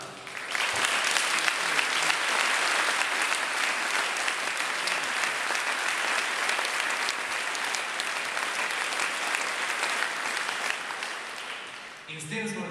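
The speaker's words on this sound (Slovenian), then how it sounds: "Seveda aplavz in za Arka in Enja Čonoviča." Sustained audience applause at the opening ceremony of the Idrija lace festival, a long dense wash of many people clapping at an even level that tapers off near the end.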